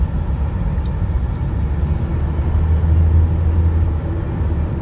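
Inside a car on a freeway, a steady low engine and road rumble drones continuously with no talk.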